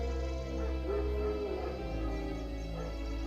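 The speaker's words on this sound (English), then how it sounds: "No, wild dogs. Yes, more dangerous than wolves." Wild dogs in the video game Witcher 3 bark and yip in the distance over a low droning background hum, with a faint whimpering edge to some calls.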